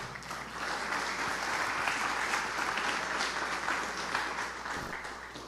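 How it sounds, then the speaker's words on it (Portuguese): A church congregation applauds during a Portuguese-language sermon, a fairly distant, even wash of clapping that holds steady throughout. "aplauda o Senhor"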